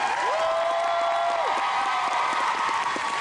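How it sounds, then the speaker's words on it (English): Anime convention audience applauding voice actors at a closing ceremony, a steady wash of clapping and light cheering in a large hall, with a whistle-like tone rising and falling over it. "So let's give a big round of applause to all our voice actors who came."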